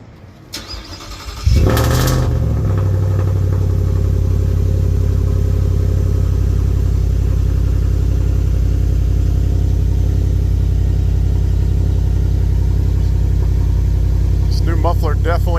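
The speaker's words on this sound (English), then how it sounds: "this is a cold start with the new muffler." A 2022 Ford F150 with a supercharged Whipple Coyote V8 and a new muffler cold-starts with a quick crank, then holds a deep, steady bass-heavy idle, loud and close for the rest.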